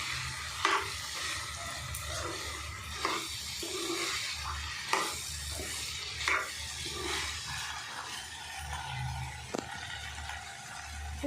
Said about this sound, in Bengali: তো আবার একটু নাড়াচাড়া করছি